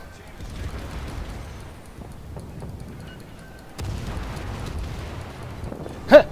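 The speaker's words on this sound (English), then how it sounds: "That's our 3rd sinking. Torpedoes, direct strike." A torpedo strike sinks a ship in World of Warships with low, muffled rumbling booms that swell into a deeper roar, ending in a brief sharp vocal outburst.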